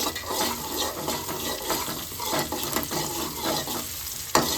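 Cumin seeds and hot chillies fry in oil for dal, giving a steady, close sizzle with stirring scrapes and one sharp clink near the end. No one speaks.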